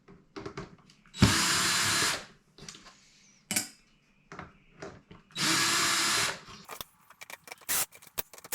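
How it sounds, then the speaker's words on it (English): A power drill backs screws out of a 2017 Ram Tradesman radio bezel in two sustained whirring runs of about a second each, separated by faint clicks and handling noises close by. "So let's get these screws popped out here and get the new bezel on."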